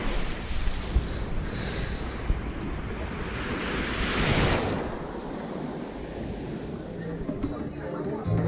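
Mediterranean sea waves washing onto the beach at Positano in April, a steady broadband surf wash with wind buffeting the microphone and a swell building near the middle; faint talk mixes in at times.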